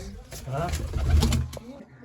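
Pigeons coo at a home loft, their low burbling calls mixed with nearby talk throughout the short stretch.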